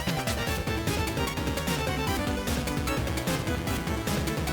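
Energetic looping major-minor battle theme music from the game Mina the Hollower, full and loud, with a pulsing rhythm and layered melodic lines playing without pause.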